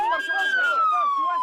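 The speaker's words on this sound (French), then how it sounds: "Les ambulances évacuent en pagaille les rares blessés." An ambulance siren wails steadily and loudly while wounded are evacuated during fighting in Brega, Libya, its tone sliding slowly downward over a low vehicle rumble.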